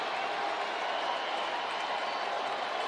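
Baseball crowd at a Cubs vs White Sox game at Wright Field, a dense, steady wash of applause and cheering from a large stadium audience, moderately distant, with a voice talking over it.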